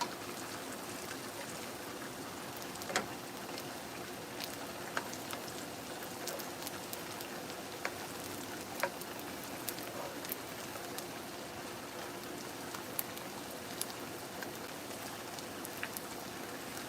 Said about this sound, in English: I guess it's starting to rain right now.